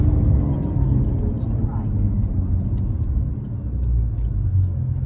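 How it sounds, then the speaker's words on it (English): A 2021 Porsche 911 Carrera S accelerating hard onto a freeway, its engine a loud, steady low rumble from inside the cabin with road noise throughout, while voices talk over it. "we're about to do a pull as we get onto the freeway"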